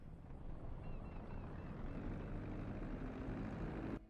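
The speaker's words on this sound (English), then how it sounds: "We're clear to flick that lever up and start the engine." Aircraft engine starting up in GTA 5, a steady broadband mechanical drone with a low hum that holds constant, then cuts off abruptly near the end.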